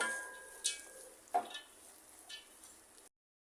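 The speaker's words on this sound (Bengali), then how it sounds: "এখন দিয়ে দিব গাজর গাজরটা দিয়ে পেঁয়াজের সাথে মিশাই নিব" Carrots being stirred into fried onions in a pan give a faint, steady sizzle, broken by a few soft scrapes and taps of the spoon, and no one talks.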